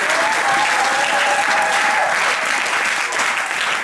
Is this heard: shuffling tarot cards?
no